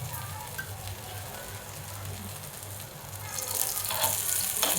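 A ragi flour dhirde batter sizzles steadily in ghee in a pan, a soft, continuous frying hiss over a low hum that grows louder and brighter toward the end.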